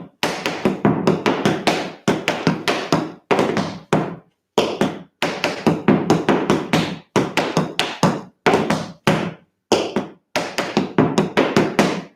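Tap dance steps, scruff heel, back flap heel, tip heel and stamp, performed in a tap class as rapid, sharp wooden taps in repeated rhythmic clusters with brief pauses between phrases, close and loud, with no talking.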